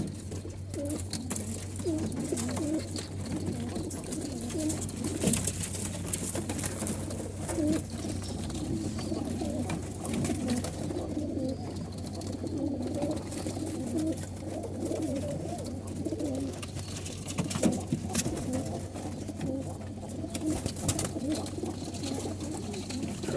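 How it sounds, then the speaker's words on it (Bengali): Pigeons coo steadily in a rooftop loft above a shop in Oman, a continuous soft murmur of many birds close by with a low hum underneath. "অনেক ভালো ভালো কবুতর এখানে"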